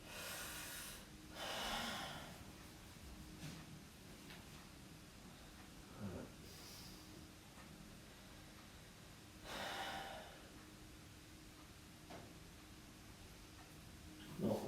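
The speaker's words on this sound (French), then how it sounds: "On aspire en tirant, on expire en relâchant." Slow breathing in and out during a yoga stretch, with broad airy inhalations and exhalations spaced several seconds apart, soft and close with no talking.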